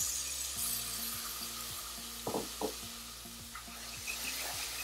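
Frozen peas cooking in a pan for a mater paneer masala give off a steady close sizzle, with a couple of brief stirring clinks and soft music playing underneath.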